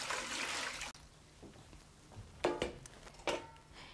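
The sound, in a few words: water poured off sprouting beans in a colander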